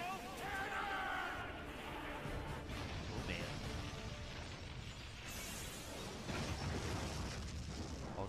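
A roaring, crackling lightning charge particle cannon blast from the anime Fairy Tail rumbles on for several seconds, a dense noisy surge with mechanical grinding undertones, loud and sustained.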